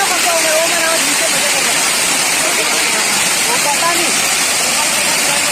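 Water pouring down from above at a waterfall near Harishankar, making a loud, steady, unbroken roar and hiss that fills the whole clip, with a voice faintly present under the rush.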